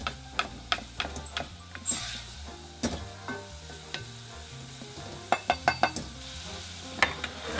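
Pork trotter meat stir-frying in a pan, with soft sizzling under repeated sharp clicks and scrapes of a utensil against the pan, close and irregular.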